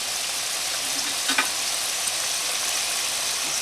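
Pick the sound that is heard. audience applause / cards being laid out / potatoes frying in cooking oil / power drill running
potatoes frying in cooking oil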